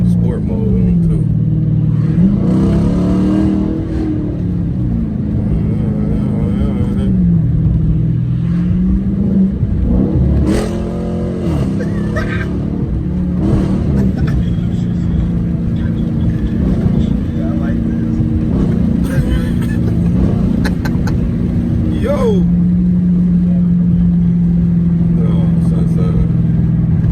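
A car fitted with a Pedal Commander throttle controller in sport mode accelerates, its engine rumbling and revving loudly and continuously at close range from inside the cabin, with rising and falling pitch and excited voices talking over it.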